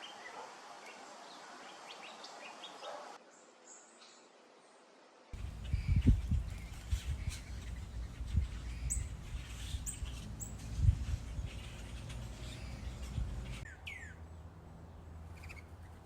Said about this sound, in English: the birds were right back to their usual routines